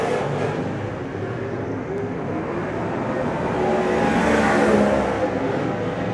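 Race cars roar around the TWS Paradise Valley Speedway oval in Rotorua during a night of 240s racing, a dense continuous engine drone that swells louder toward the middle of the clip as the pack passes close.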